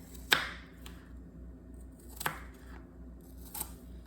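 A knife cuts through apples for apple pie on a board, giving three sharp isolated chops spaced a second or two apart, close and clear in a quiet kitchen.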